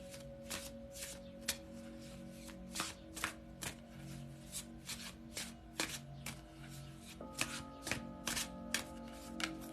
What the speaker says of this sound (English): I'm going to cut this deck differently because it's so big. I got to set it down to do it.